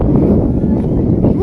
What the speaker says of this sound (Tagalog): Sarap ng hangin dito.